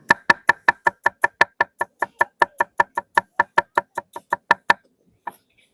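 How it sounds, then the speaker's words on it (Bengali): A knife chops onions on a board in quick, steady strokes, about two dozen crisp, loud knocks in an even rhythm, then a short pause and one last chop. "পেঁয়াজগুলো সুন্দর করে কুচিয়ে"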